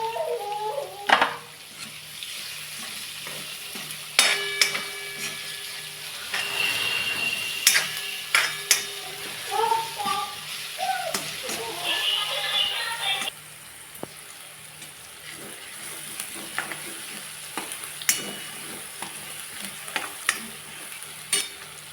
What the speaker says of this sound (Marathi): कांदा टाकून घेतला आपण.